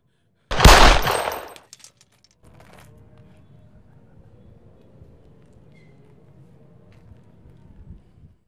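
A loud, close burst of rapid gunshots rattles for about a second, then fades into faint low background noise.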